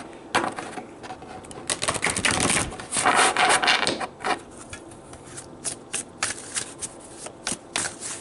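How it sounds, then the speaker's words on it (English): Tarot cards being shuffled during a love reading, a run of crisp riffling and flicking bursts that come in quick clusters and then thin to short separate snaps, close and clear with no talk. "I feel like I need to shuffle these really good"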